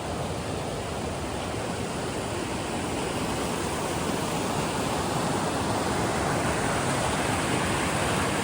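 Lake Creek, a mountain creek among ponderosa pines, rushes steadily, a continuous broadband wash of flowing water close by with no pauses or voices.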